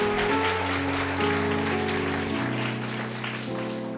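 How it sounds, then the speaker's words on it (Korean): A church congregation applauds during a worship service, a dense wash of clapping running steadily beneath loud sustained music from a keyboard or organ. "다시 한번 우리의 찬양과 예배를 받으신 하나님 앞에 감사와 영광의 박수 한번 올려드렸으면 좋겠습니다"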